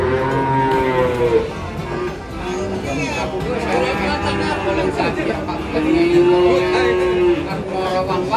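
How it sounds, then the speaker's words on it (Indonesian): Limousin cattle moo repeatedly and loudly at Pasar Legi Jatinom livestock market, with long drawn-out calls over a constant din of crowd chatter and people talking nearby. "Kita ini ada sapi limosin."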